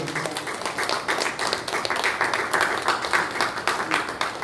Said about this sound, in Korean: 모든 구역 식구들에게 박수로 부탁드립니다.